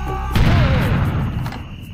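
Cannon firing in the video game Serious Sam: The First Encounter, one loud close boom with a rumbling tail that fades over about a second and a half.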